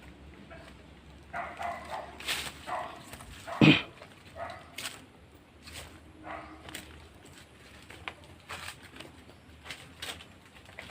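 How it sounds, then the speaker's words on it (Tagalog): A dog barks several times outdoors on a mountaintop cemetery, sharp isolated yaps spread across the scene with one louder, nearer bark, under faint ambient noise and possible bird sounds. "Tahol ng tahol yung aso."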